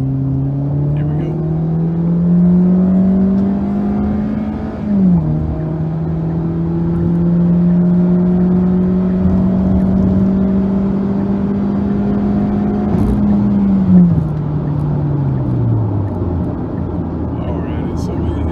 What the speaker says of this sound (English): we're gonna go ahead and throw it into sport mode and get on the highway and see what that sounds like